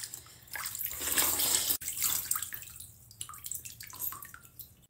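Water running and splashing in a bathtub during a rinse, a continuous close rush that thins into scattered drips and trickles toward the end.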